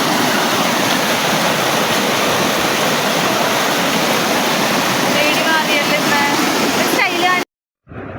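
Water rushes over small rocks beside a tree-lined forest path, a loud, steady broadband roar that continues unbroken before cutting off abruptly near the end.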